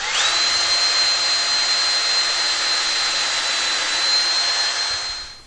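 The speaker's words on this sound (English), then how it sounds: "We're going to drill through." A power drill bores through an Ikea Pax wardrobe panel, a loud steady high-pitched whine held close for about five seconds before cutting off, with no talk.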